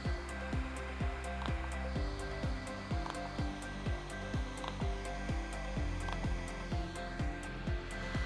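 An IPL hair removal machine runs with a steady fan hum, and its repeated mechanical clicks or pulses come in a regular rhythm of roughly two per second. The sound is close and continuous, with no voice.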